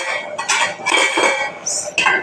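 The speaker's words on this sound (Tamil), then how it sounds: "இப்போ மறுபடியும் ஓப்பன் பண்ணி ஒரு கிளறி விட்டுக்கலாம்." Cooked thoyal keerai greens for a kadaiyal are stirred in a pot, giving loud, close scraping and clattering strokes in an uneven rhythm.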